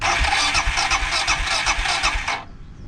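A superbike motorcycle engine, probably flooded after the bike was tipped over, cranks with rapid, even pulsing for about two and a half seconds and then cuts off abruptly, close and loud.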